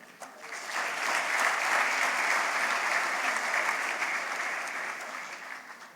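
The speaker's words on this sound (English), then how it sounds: "That itself deserves a round of applause for him." A conference audience applauds for Narayana Murthy at TiEcon Mumbai, a full, even burst of crowd clapping that rises quickly, holds for several seconds, then tapers.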